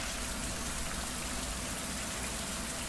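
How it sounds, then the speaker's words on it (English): Steady, dense rain falls in a survival video game, a constant even hiss of raindrops on surfaces with no talk, unchanging across the few seconds. "We need to make a water collector with all that dang rain we're getting"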